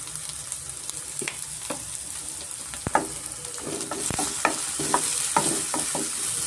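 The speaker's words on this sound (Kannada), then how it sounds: "ಸ್ವಲ್ಪ ಚೆನ್ನಾಗಿ ಫ್ರೈ ಆಗಬೇಕಾಗುತ್ತೆ ಚೆನ್ನಾಗಿ ಫ್ರೈ ಮಾಡ್ಕೊಳ್ಳೋಣ" Onion and capsicum with turmeric fry in a pan: a soft, steady sizzle with scattered clicks and scrapes from stirring, quiet and close, with no talking.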